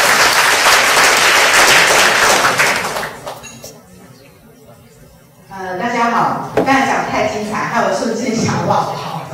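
An indoor audience at a youth working-holiday information session breaks into loud, dense applause that fades into quiet, then a second burst of clapping rises again with a voice speaking over it.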